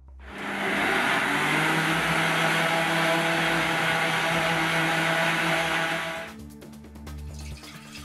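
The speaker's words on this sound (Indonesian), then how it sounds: "lalu di blender sampai halus." An electric blender purées asinan Bogor ingredients, tamarind water, plain water and a squeeze of lime juice, in a loud, steady whirring roar lasting about six seconds before it cuts off, leaving quiet clatter.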